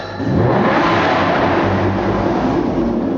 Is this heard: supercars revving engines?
yes